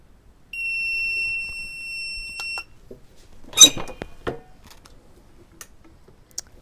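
Heat press timer alarm sounding at the end of a countdown while pressing layered glitter and flock HTV onto a T-shirt sleeve: one continuous electronic tone of about two seconds, followed by clattering handling noises and clicks.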